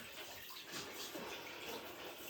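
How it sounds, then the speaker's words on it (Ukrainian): Tap water gushes steadily into a bath while a German shepherd is being washed, a continuous broadband splashing rush heard close up with no voices over it. "Ну що це за напор води?"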